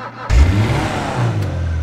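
Karin Futo GTX sports car in GTA 5 cranks up with a sharp start, then settles into a loud, steady low engine rumble and exhaust drone with a brief rev swell, close and alone.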